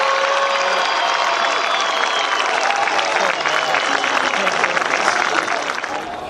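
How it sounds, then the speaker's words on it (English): Crowd applause and cheering fill the stands at a high school football game, Alvirne at Merrimack, a steady broadband wash of clapping with some voices mixed in, holding loud throughout before easing slightly at the end. "how about a round of applause?"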